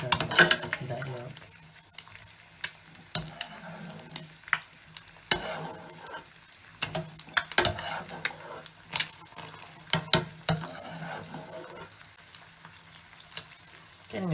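A sunny-side-up egg frying in a pan with plenty of excess butter, crackling and sizzling steadily close by, with sharp pops and spits breaking through and occasional scrapes of a utensil.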